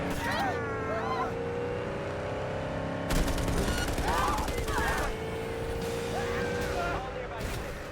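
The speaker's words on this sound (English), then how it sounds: "if I hit Alt, then I unsheath the vehicle's weapons," Weapons mounted on a car in Cyberpunk 2077 fire in bursts of rapid shots over a droning engine hum, while a voice talks through much of it.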